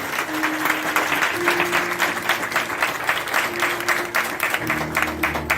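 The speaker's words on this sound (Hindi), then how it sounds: "आइए उसके जलाल के लिए जोरदार तालियां" A congregation claps loudly at a Palm Sunday church service, a thick, continuous wall of applause with a faint sustained tone humming underneath.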